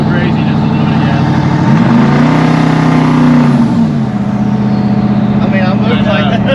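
A twin-turbo LS engine on a dyno idles loudly, then rises in a smooth brief rev and settles back down, with voices talking over the steady engine drone.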